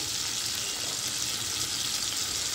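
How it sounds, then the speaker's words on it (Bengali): Whole cumin, cardamom and cinnamon sizzle in hot oil alongside fried shrimp, a steady dense hiss and crackle running unbroken at close range with no talk. "আর এলাচ আর দারচিনি ফোড়ন দিয়ে দিলাম।"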